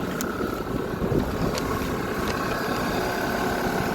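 A 2008 Volvo XC90 V8 idles with a smooth, steady low hum from the engine, even and constant throughout with no revving.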